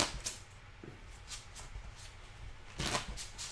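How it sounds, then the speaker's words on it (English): Playing cards being shuffled by hand at a table during a casual Open Face Chinese poker game with friends, giving a few soft riffling bursts, a brief one early and a louder one near the end, with no talking. "So I'm going to shuffle this up."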